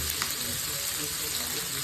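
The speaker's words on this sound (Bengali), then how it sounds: "এপিট ওপিট করে সুন্দর করে এটাকে ভেজে নেব।" Chicken pieces fry in hot oil dhaba style, a steady close hiss of sizzling filling the short stretch, with faint kitchen handling noise underneath.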